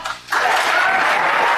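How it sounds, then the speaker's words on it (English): Applause from a political audience in a replayed broadcast clip, starting abruptly after a short quiet moment and continuing as a dense, steady wash of clapping, slightly muffled as if carried over the air. "There's the clapping seals."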